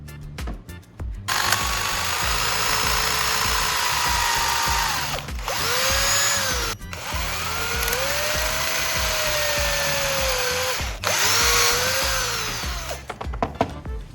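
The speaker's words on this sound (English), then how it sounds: "I will drill additional holes at both ends of the 2 wooden pieces" A power drill whines steadily as it bores into wood, its pitch sagging under load and rising again, with brief pauses between holes.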